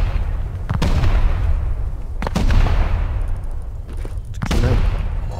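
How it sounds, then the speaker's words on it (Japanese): Satchel charges detonate in the survival game Rust, three heavy blasts at roughly two-second intervals, each a sharp crack swelling into a low rumble that rolls on under faint talk. "爆発"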